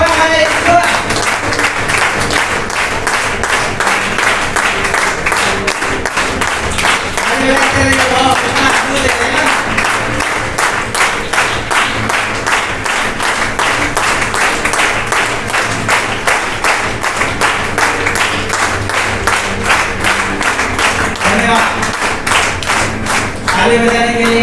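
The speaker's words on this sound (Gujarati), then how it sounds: "ताली बजाने के लिए हम पूरे दिल से धन्यवाद करते हैं" Audience at a first-year graduation ceremony of Greater Grace Bible College in Jhalod claps steadily and loudly, with sustained rhythmic applause throughout.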